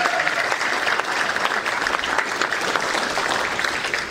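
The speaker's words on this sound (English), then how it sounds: "Can you give them a round of applause?" A roomful of people at a church teaching session gives a round of applause, sustained clapping at moderate level with a fairly uniform texture and no voices standing out.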